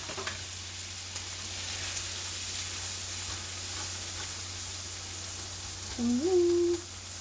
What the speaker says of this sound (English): I'm going to go ahead and cool this oil down, or butter down, by throwing in my vegetables